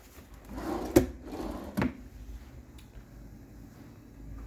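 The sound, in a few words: hotel room drawer opening or closing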